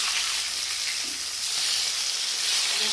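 Rohu fish sizzling steadily in hot oil in a pan as it is turned over, a continuous close, bright crackle and hiss throughout with no talking.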